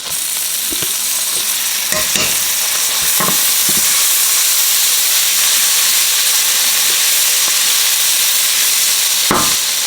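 Garlic sizzling hard in half a stick of melted butter in a pan, a loud, steady frying hiss with a few scattered crackles and spoon clicks throughout.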